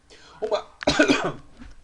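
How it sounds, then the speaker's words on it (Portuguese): A man coughs in a short burst indoors: two or three harsh, close coughs, the loudest near the middle, fading into breathy throat noise. "Vai dar uma tossida aqui."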